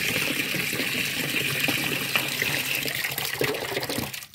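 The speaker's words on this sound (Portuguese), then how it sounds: "Encher aqui bastante água." Water pouring steadily into a porcelain cup, a continuous gushing tap-like fill that stays close and fairly loud before cutting off at the end.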